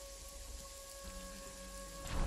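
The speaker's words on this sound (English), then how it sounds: "Thank goodness it's raining right now" Steady rain patters in Jagged Alliance 3 over a soft broadband hiss with a low hum and faint tones beneath, swelling slightly louder at the end.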